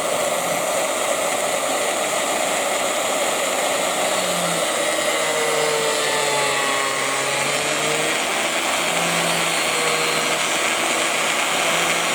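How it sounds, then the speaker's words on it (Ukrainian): Valve seats on a MAN D2066 diesel cylinder head are ground with a powered seat-grinding tool, a loud steady high-pitched whir with shifting tonal squeals and scraping, running continuously without speech. "Тобто содла ми шліфуємо."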